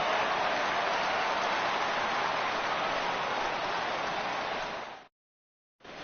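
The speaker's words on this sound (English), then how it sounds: "he receives a nice ovation from this home crowd" Crowd applause and cheering from a home crowd in a baseball video game, loud and steady like a broad wash of clapping for about five seconds, then cutting off abruptly into silence before resuming briefly.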